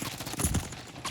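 Gunfire from Call of Duty MWIII crackles in quick, muted bursts, a rapid patter of shots at moderate loudness over a short stretch.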